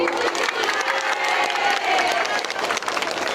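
Dense clapping from a crowd, steady and fairly loud throughout, with some cheering mixed in.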